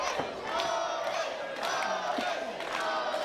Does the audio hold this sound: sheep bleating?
no